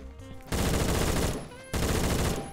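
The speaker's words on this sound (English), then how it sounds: "See, this pistol's great." Rapid pistol fire in a video game comes in two dense, loud bursts of overlapping shots, with a short lull between them and no talk over it.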